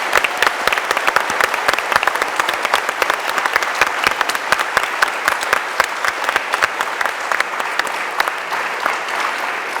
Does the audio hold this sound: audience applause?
yes